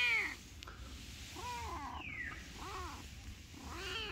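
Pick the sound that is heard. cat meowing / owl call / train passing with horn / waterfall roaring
cat meowing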